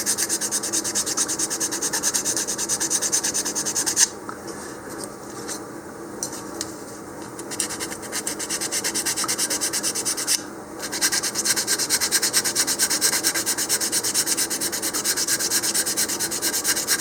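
A wooden part for a model rocket shaped by hand sanding, a steady close rasping rub in quick repeated strokes, with two short pauses, and no talk over it.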